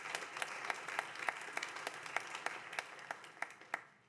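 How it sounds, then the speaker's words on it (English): A congregation applauds at Sunday Mass in a church, sharp individual claps standing out over a soft, fairly distant ripple of clapping that holds steady for a few seconds. "let's give them a nice round of applause"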